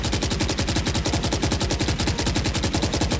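Automatic rifle fire in the shooter game Valorant, a rapid, evenly spaced burst of loud gunshots fired continuously at a target, close and dominant with no pauses.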